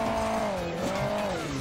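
A bus in the mobile racing game Hill Climb Racing 2 reverses and then drives off, its steady engine drone rising and falling in pitch across the short stretch with faint tire noise, loud and continuous with no talk.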